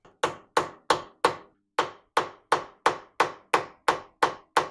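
Hammering on a door hinge during a rebuild on an RA24 Toyota Celica: about twelve sharp metallic blows in a steady, quick rhythm with one short pause, close and ringing briefly after each strike.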